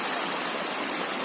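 A waterfall and stream rush over mossy rocks at Ballıkayalar, making a steady, dense, close roar of flowing water with no pauses and no voices.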